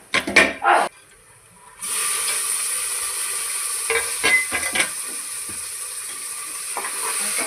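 Tomatoes dropped onto fried onion in a pressure cooker, a few knocks and scrapes followed by a steady sizzle with occasional stirring clatter, close and fairly loud.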